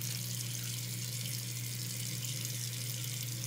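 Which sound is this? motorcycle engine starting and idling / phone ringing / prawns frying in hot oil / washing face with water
washing face with water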